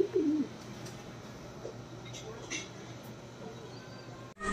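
Rampur pigeons coo in a loft, a soft low cooing running steadily beneath ambient noise, with one clearer call near the start.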